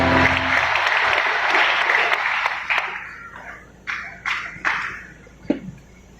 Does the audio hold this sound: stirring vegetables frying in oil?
no